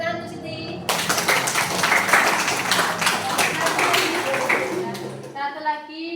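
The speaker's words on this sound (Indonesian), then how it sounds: "Tepuk tangan untuk Siti." A class of students breaks into applause for a classmate, a dense burst of clapping lasting several seconds, with a voice speaking just before and after.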